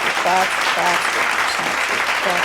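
Loud, sustained applause from a podcast's live audience fills the moment, dense and continuous, with a few voices faintly calling out through the clapping.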